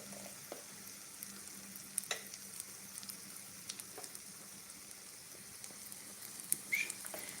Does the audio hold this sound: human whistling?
no